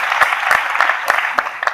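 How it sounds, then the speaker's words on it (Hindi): An audience at a direct-selling business talk breaks into brief, loud applause with dense clapping throughout and a few sharper claps standing out. "एक बार जोरदार तालियां होनी चाहिए।"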